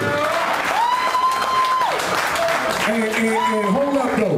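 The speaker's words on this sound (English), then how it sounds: "Clap that up, man." A talk show audience applauds and cheers while a voice calls out over the noise in sustained, sliding tones, the crowd sound steady and fairly loud beneath.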